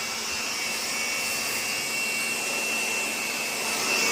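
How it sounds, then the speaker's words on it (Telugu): Vacuum being run over an air conditioner unit just after water-washing it, a steady loud high-pitched whine with a constant airy hiss and no talk. "ఇలాగా ఏసీకి అయితే వాక్యూమ్ చేస్తున్నారు"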